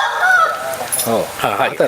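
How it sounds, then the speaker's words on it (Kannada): Chickens at a farmhouse cluck and squawk in short, loud, harmonic bursts close by, with several calls overlapping. "ಬನ್ನಿ ಒಂದಷ್ಟು ಕೋಳಿಗಳನ್ನು ನೋಡುವ"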